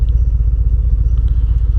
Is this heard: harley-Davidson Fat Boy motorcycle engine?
yes